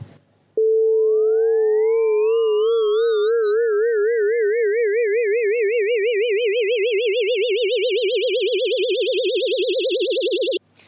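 Seizure voltage from brain tissue rendered as sound: a steady synthetic tone with a rising overtone sweep that gradually takes on a fast warbling wobble, loud and unbroken for about ten seconds, with no talking.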